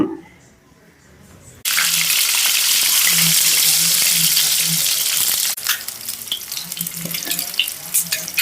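Oil heating in a pan for egg curry breaks into a loud, steady sizzle after a brief quiet start, then settles to a rougher crackle, close to the listener.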